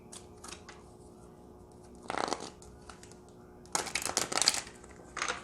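Tarot cards being shuffled by hand in two bursts of riffling and flicking, the second longer and busier, against a quiet steady hum with no one speaking.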